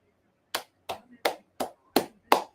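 One person claps their hands six times during an NFL Draft show. The claps are sharp, close and evenly spaced, with silence in between.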